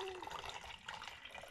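Water pours into a container, filling it to submerge a rusty Treasure X Robots Gold toy, a short steady splashing trickle with a faint voice in the background.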